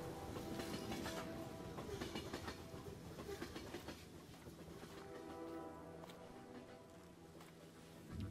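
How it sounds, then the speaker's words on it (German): A train rolls on rails in the video game Get Even, giving a steady broadband rumble with faint rhythmic clatter, sustained and fairly loud throughout with no talk. "Ein Zug."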